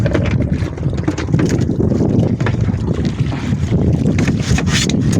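A boat motor on a fishing boat drones loudly and continuously, mixed with heavy wind buffeting and splashing water; no talk.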